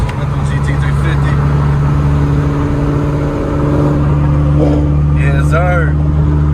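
A Ford Mustang GT350 holds a loud, steady engine roar through a burnout, a constant low drone that stays close and heavy. Voices talk and shout over it near the end.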